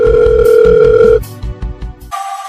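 An outgoing phone call ringing in the earpiece, a loud steady ring tone that cuts off and gives way to a second, different tone, heard alone without talk.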